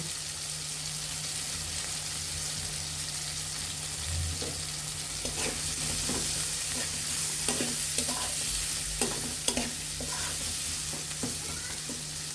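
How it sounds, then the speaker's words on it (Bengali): Fish sizzles steadily in a pan of hot oil in a home kitchen, a constant close frying hiss with occasional sharper crackles and spits, no voices over it. "যখন এরকম হয়ে আসবে তখন আমরা পেঁয়াজ কুচুগুলো পেঁয়াজ কুচুগুলো দিয়ে দেব"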